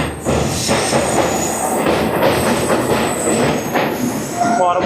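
Pinakini Superfast Express running on the Vijayawada to Chennai line: a loud, steady rumble of wheels on rails with high metallic squeals and a faint clickety-clack, heard from close by with no talk.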